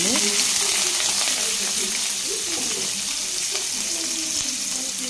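Onions and sauces sizzle in hot oil in a pan, a loud steady frying hiss with crackling pops and a few stirring scrapes, a faint voice in the background.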